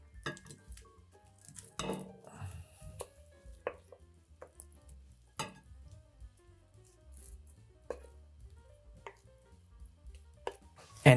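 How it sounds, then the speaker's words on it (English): Dressed Brussels sprouts are spooned from a pan into a serving bowl, with scattered soft clatters, moist squishes and light taps of utensil on dish, fairly quiet and sporadic. "now we're going to transfer these dressed Brussels sprouts into our serving bowl"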